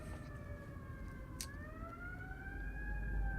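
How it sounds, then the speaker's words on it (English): Fire engine sirens wail outside, a steady rising and falling tone that swells louder toward the end as the trucks pass by, heard alone without any talking. "Hush, you dang fire engines."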